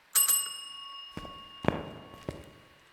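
A bright notification bell rings sharply with a sustained metallic tone, followed by a few quieter thuds and clicks in a quiet indoor space, with no voices.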